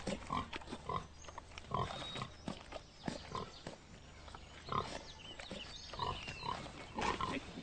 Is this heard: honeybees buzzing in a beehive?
no